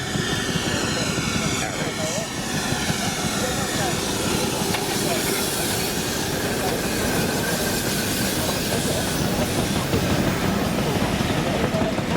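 A standard class train pulling in on the Spa Valley Railway during a gala, giving a loud, steady engine and rail rumble with a broad hiss that continues unbroken throughout.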